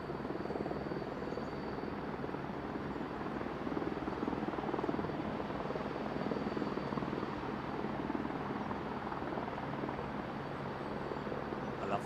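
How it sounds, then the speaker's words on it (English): Helicopter flying over London Heathrow Airport, a steady rotor thrum and engine roar that holds at a constant, fairly loud level through the whole stretch with no talk. "I love the sound of a chopper."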